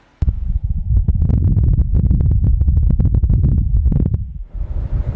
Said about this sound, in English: Wind blowing on Mars.